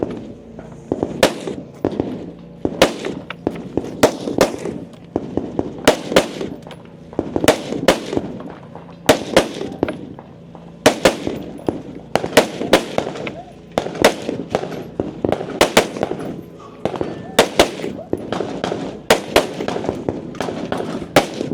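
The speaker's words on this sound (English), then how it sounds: "Dininger done again first from the rifle" Rifle shots crack at a shooting competition firing line in rapid clustered bursts, sharp and fairly close, with short pauses between groups and a low background murmur.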